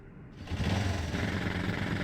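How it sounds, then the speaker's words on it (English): A motorbike engine in the video game Tomb Raider: The Last Revelation starts up after a faint moment and keeps running with a steady, buzzing drone at moderate volume. "When you're on the bike and it's running, you can hear the engine going."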